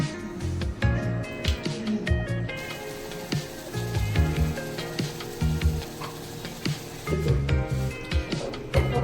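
Crackling sizzle of tempering spices hitting hot oil for cooked lentils, with clattering pan and utensil knocks throughout, busy and close.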